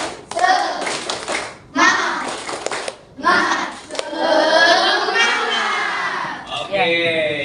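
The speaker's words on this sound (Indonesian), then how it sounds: "Tepuk semangat." A class of sixth-grade children claps together in a rhythmic spirit clap, loud bursts of patterned clapping mixed with their voices chanting along, close and lively in a classroom.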